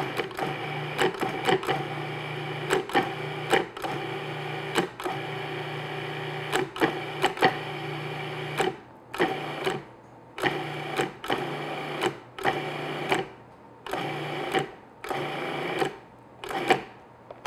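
A food processor pulses a butternut squash pie mixture in a kitchen, a string of short whirring bursts separated by brief pauses, the gaps lengthening toward the end, close and fairly quiet with no talk.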